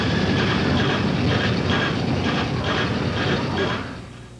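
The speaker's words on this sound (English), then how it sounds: "Feels like a freight train is rumbling through my brain." A freight train rumbles steadily and loudly throughout, with a rhythmic clickety-clack of wheels on rails, fading slightly at the end.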